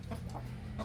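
Native buras chickens cluck softly nearby in a short, close burst of a few low clucks.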